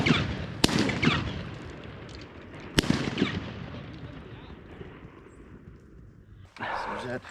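Two sharp, loud shotgun blasts roughly two seconds apart ring out across a farm pond during a mallard hunt, each followed by a short echoing decay, with voices talking quietly underneath and a brief burst of noise near the end.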